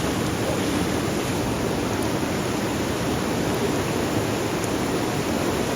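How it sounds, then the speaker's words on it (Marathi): Fast-flowing flood water rushes during heavy monsoon rain in the flooded Johe–Tambadshet area near Pen, Maharashtra, making a steady, loud, close broadband roar with no letup and no voices. "हे बघा पाणी पण किती फास्ट आहे बघा. फुल जोरमध्ये पाणी आहे."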